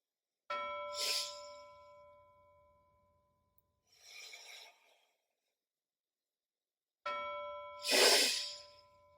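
A bell rings twice with clear, lingering tones, each strike followed by a slow breath in and out, with a breathy exhale between them.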